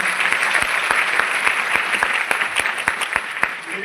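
An audience claps for the women present at a motivational talk in Bhagalpur, Bihar: dense, continuous applause with distinct individual claps popping through, fairly loud and without speech.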